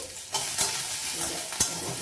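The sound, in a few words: onion frying and being stirred in a pan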